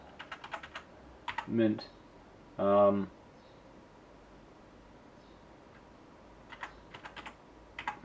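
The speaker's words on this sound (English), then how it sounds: "so I'm going to type that in" Keystrokes on a computer keyboard while a username is entered during a Linux Mint install on an average PC, arriving in quick bursts of clicks at the start and end, with someone speaking briefly in between.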